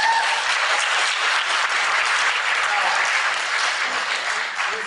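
Audience applause at a live debate on whether God exists, a dense steady wash of clapping that fills the whole stretch at strong, even loudness with no speech over it.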